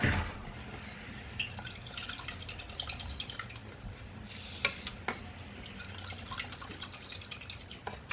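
Two cups of veggie broth poured into a pot for quinoa, a close liquid splashing and trickling with dripping and light clatter, with a brief rush of pouring midway.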